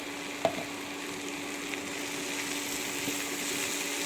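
Drumstick and coconut thoran being stirred in a hot pan, with a steady low sizzle throughout and one soft clack of the spoon near the start.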